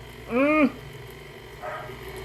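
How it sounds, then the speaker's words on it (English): A single short dog bark or yelp rings out nearby, followed a moment later by a fainter second bark over a quiet room hum. "You can hear the barking."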